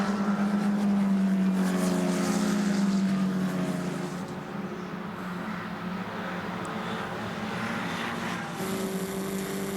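An SMP Formula 4 race car engine is heard onboard, loud and close, with a high whining tone that falls as it comes off the throttle, then holds a lower steady roar before climbing again near the end.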